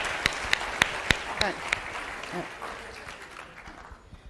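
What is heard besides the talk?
audience applause for volunteers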